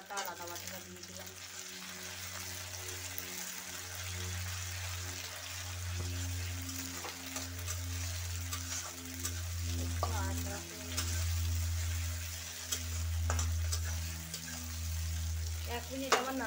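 Garlic and ginger paste sizzles with fried onions as it is stirred for a Bengali mutton curry. The frying hiss stays soft and continuous beneath steady, rhythmic background music.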